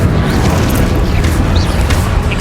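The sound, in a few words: Incendio fire spell effect in Hogwarts Legacy video game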